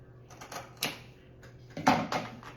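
Scissors snip through craft twine laid on a glued wooden tier tray, giving a few short crisp cuts and rustles close by, with no talk.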